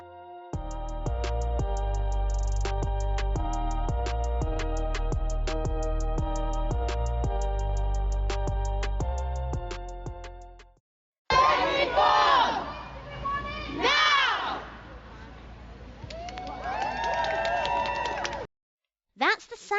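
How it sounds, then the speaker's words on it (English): Hundreds of angry protesters at a UK SEND reform demonstration shout and chant loudly as a massed crowd, their cries rising and falling in waves after a stretch of music, with brief gaps near the end. "That's the sound of hundreds of angry voices who understand the UK SEND system isn't good enough."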